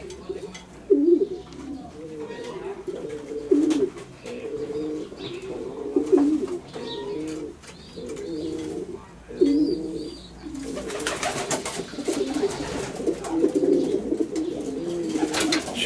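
Racing pigeons in a loft give repeated soft, throaty coos that overlap in a steady rhythm, with occasional chirps and a rustle of wings, close and fairly loud.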